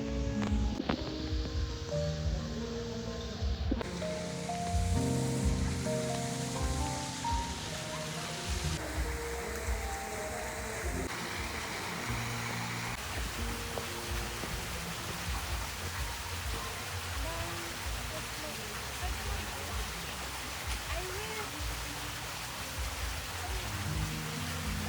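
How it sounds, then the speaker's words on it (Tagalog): Steady rain falls in a garden setting, a continuous soft hiss of drops on surfaces with a faint blend of background murmur, even and unbroken throughout. "Parang ulan na."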